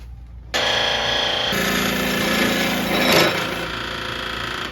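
A wood lathe turns a scalloped bowl while a tool cuts a tenon: a steady close-up motor hum with harsh scraping, a brief louder surge of cutting partway through, then an easing grind.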